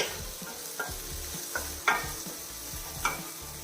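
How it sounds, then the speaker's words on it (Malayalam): Finely chopped tomatoes sautéing over a medium flame, a low steady sizzle broken by several distinct scraping strokes of a spatula stirring the pan, close and clear with no voices. "മീഡിയം ഫ്ലെയിമിൽ വെച്ചിട്ട് വഴറ്റിയെടുത്താൽ മതി."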